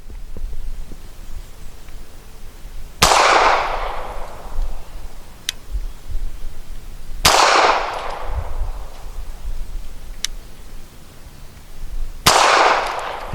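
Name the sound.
gunshots from SAR USA B6C pistol, 158 grain ammunition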